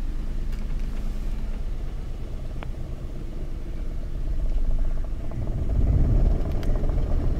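Manual-transmission car in first gear pulling away as the clutch is slowly let out during a first-day driving lesson; a steady low engine rumble swells louder near the end as it moves off.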